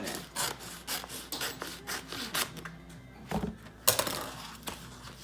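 Scissors or a blade working through a plastic laminate sheet while trimming a paperback book cover, giving a run of close scraping, rasping strokes with short pauses and a sharper snap near the end.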